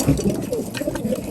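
A racing pigeon bred from Houben and Koopman lines coos in a few short, close, fairly loud low notes over a brief stretch.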